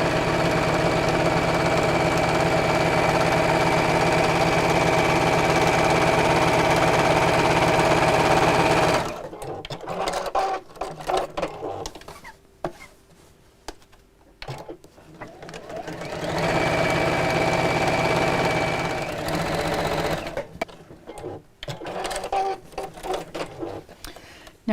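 A sewing machine stitches straight lines through layered chenille for a bag, whirring loud and steady in two long runs separated by quieter stretches of fabric handling and small clicks.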